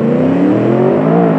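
A twin-turbo V8 all-wheel-drive drag truck in BeamNG accelerates, its engine drone climbing steadily in pitch as one loud, continuous tone with no talking.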